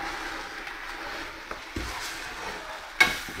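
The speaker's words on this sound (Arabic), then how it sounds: "نستنى نستنى كي تقلى شوية، كي يدوب البصل هذاك وتكون تحمر لي اللحم" Onions and meat fry in a pot for an Algiers-style white-sauce couscous, a faint low sizzle with occasional knocks and scrapes of a stirring utensil, no voices.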